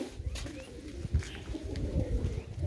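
Pigeons kept in a loft with cages and perches coo softly and continuously over a low, busy background murmur, close by and fairly quiet.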